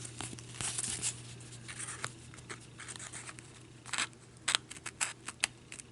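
Scissors cut through a felt Christmas tag up close, with soft snipping and rustling that turns into a quick run of sharper snips near the end, and no talking.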